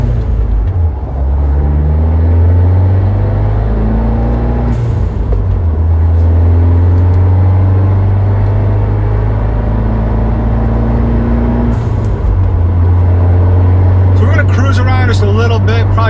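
Steady engine drone from a Fiat 124 Spider being driven after its MAP sensor was cleaned, a low hum with shifting pitch as it accelerates and changes gear, continuous throughout, with a brief clatter near the end.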